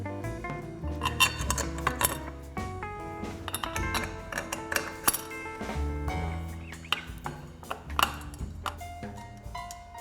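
Metal bolts clinking and tapping as they are set into the fulcrum of a Glidecam Camcrane 200, a string of close, bright metallic pings and rattles at irregular intervals with ringing tones.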